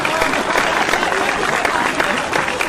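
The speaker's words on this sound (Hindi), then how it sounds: "आज तो मजे से प्यारे तालियां बजाइए" A crowd at a Hindi poetry recital applauds continuously, with dense, even clapping throughout and faint voices mixed in.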